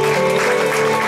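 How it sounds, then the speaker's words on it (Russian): Wedding guests at a restaurant registration ceremony applaud in a brief, continuous burst of clapping, with steady tonal music or hum running underneath. "Ваши аплодисменты,"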